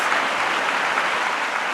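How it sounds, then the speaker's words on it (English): Steady applause from an audience at a Sri Sathya Sai Baba centenary celebration, honouring quiz participants; dense, even clapping fills the whole stretch at a moderate level with no voices. "I request the audience to give a big round of applause to all the participants for all their efforts"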